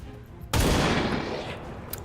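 A single loud gunshot in XCOM 2, starting sharply after a quiet moment and trailing into a rumbling decay, with no voices.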